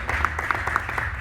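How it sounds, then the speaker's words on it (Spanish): Church congregation applauding steadily for about a second, a dense patter of many hands with a few sharper claps standing out. "Denle un aplauso al Señor"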